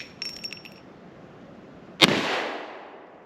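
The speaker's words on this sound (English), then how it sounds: "16-inch barreled Rossi Winchester 1892 clone, 3 shots. Same ammo." A single loud, sharp rifle shot from a 16-inch-barreled Rossi Winchester 1892 clone firing .44 Magnum ammunition outdoors, a crisp crack with a short ringing decay, following a faint metallic clatter.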